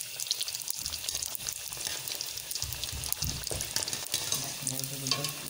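Gol gappe puris fry in very hot ghee with a steady, dense crackling sizzle throughout, plus occasional scraping and stirring as the puffed puris are moved and lifted out, close and without talk.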